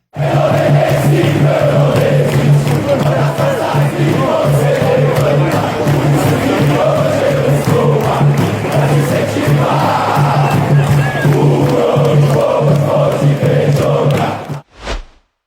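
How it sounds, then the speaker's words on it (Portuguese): Santos football supporters chant together in a stadium, a loud, sustained crowd song with a steady sung tone running nearly the whole way before cutting off abruptly near the end. "Provavelmente você já deve ter ouvido a torcida do Santos entoar esse canto aqui."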